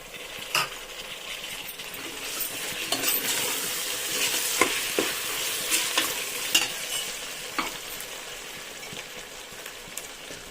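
Ginger and garlic sizzle in hot oil in a pan with tomatoes added, a steady frying hiss punctuated by repeated scrapes and taps of a spoon stirring against the metal.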